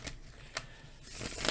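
A deck of tarot cards is riffled and shuffled by hand in short bursts, crisp papery flutters close by with quiet pauses between, building into a longer shuffle at the end.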